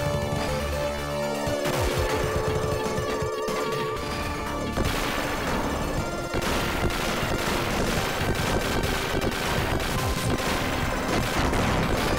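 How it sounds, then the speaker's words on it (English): Dense, continuous combat in the Sega Mega Drive game Gunstar Heroes: rapid gunfire and repeated explosions pile up in a loud, chaotic barrage with no pauses. "there's so many explosions!"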